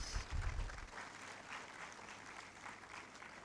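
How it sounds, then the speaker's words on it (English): An audience claps at a congregation ceremony in a conference centre, steady and moderately distant applause filling the hall, with a low rumble of handling noise at the start and no speech. "Another round of applause for Clara, please"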